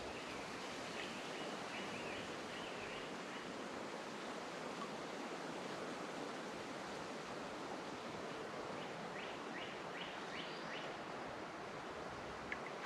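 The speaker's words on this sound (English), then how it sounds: "Good current flowing right there, coming off them shallows" A creek current runs over rocky shallows in a continuous, even rush of water, steady and fairly close, with no talking.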